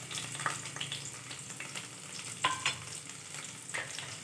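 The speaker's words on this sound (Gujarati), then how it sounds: "થોડુંક 2 મિનિટ આપણે ઘીમાં આને સાતળીશું" Chopped garlic and green chilies sauté in ghee, giving a steady close sizzle broken by a few scraping stirs of a spoon in the pan.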